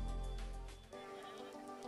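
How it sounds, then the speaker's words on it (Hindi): Goat bleating at a small temple, a single close, wavering bleat lasting about a second over a steady outdoor background. "ये वो बकरा है जिसका चढ़ावा चढ़ेगा दोस्त के द्वारा"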